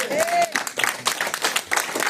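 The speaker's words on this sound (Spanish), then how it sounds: "Un aplauso más fuerte" Church congregation applause during a Spanish-language service, a short lively burst of clapping with voices and shouts mixed through it.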